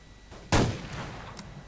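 One loud, sharp gunshot cracks out in the video game Survarium and decays quickly, followed by a fainter distant shot about a second later.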